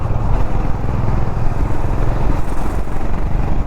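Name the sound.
motorcycle riding in fifth gear at 70 km/h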